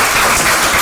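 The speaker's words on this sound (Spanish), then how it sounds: "a quien les pedimos por favor un fuerte aplauso" Brief burst of audience applause at a panel dialogue on feminist challenges held with UNAM's legal research institute, a dense, even wash of clapping filling the whole moment with no voices over it.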